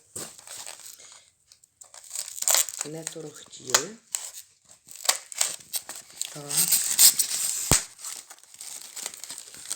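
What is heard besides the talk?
unwrapping a taped package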